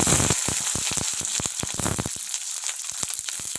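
Sliced onions and capsicum fry in oil over a high flame, making a crackling sizzle of sharp bursts and pops that thin out toward the end, close to the mic.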